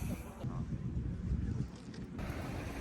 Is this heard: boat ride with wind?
yes